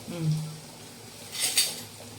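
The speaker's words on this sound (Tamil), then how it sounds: "வெங்காயம் போட்டுக்குது, எண்ணெய் ஊற்றுறேன்." Chopped onions and cooking oil drop into a pan while mushroom curry is being made, giving a brief clattering burst after a quiet stretch with a low hum.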